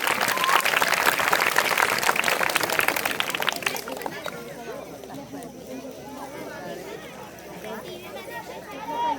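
An audience at a village festival Ganesh ceremony claps for a few seconds, then the applause gives way to talk and crowd chatter.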